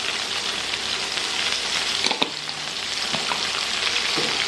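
Salmon fries in a pan with a continuous close sizzle, broken by a few sharp clicks and scrapes of a utensil, with no talking.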